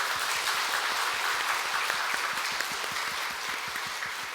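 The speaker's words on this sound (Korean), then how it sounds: "우리 박수로 격려해 주시면 좋겠습니다." A church congregation applauds during a Sunday worship service, steady dense clapping from many hands filling the room throughout, with no talk over it.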